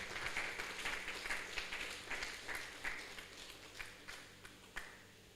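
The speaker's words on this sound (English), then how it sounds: "Please, can we give them a very sound round of applause?" Audience applause at a physiotherapy profession induction ceremony, a steady patter of many hands clapping at moderate distance, with a few sharper individual claps standing out, continuing without speech throughout.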